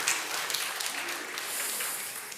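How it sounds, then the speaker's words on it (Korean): A church congregation at a Korean Presbyterian Sunday service applauds to welcome visitors, a steady, even burst of many hands clapping at moderate volume throughout. "저희 환영의 박수 올려드리도록 하겠습니다"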